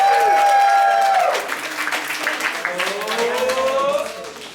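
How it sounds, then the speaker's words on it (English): Bar crowd at a drag-queen Dungeons and Dragons show cheers and claps for a d20 roll, with whoops and a raised voice over a burst of applause that fades out. "Applause for the d20!"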